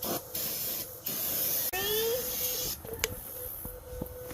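Brake cleaner sprayed from an aerosol can onto a rifle to strip oil and grease, several short close hissing bursts with small rattles and clicks between them.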